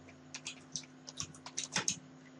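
Fast, uneven clicks of typing on a computer keyboard sound close and fairly quiet, a quick string of keystrokes over a faint steady hum.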